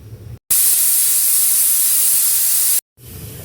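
A pressure cooker of vegetable soup releases one loud, close burst of hissing steam whistle lasting a little over two seconds, with quieter kitchen noise before and after.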